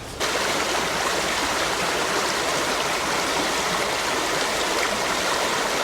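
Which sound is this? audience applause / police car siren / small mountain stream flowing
small mountain stream flowing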